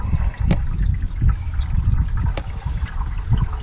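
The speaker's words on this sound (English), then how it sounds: "you can hear it draining in there really good" Liquid drains and trickles inside the engine of a 2000 Nissan Sentra, a steady low gurgling wash with a few brief sharper splashes, continuous and fairly close throughout.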